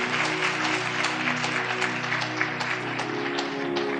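A church congregation at a sermon by Sant Sunder Lal Ji claps loudly throughout, the broad clapping layered over steady sustained music.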